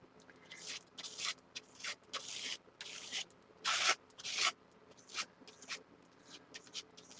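Acrylic paint being scraped across an art journal page, heard as a series of close, dry rasping strokes of varying length with short pauses between them.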